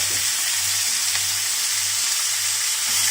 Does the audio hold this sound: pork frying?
yes